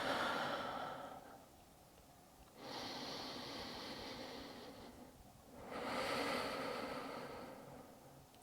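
Slow, deep yogic breaths during a crow flow practice, three long airy inhale-exhale swells rising and fading, close and fairly soft, with no talking over them.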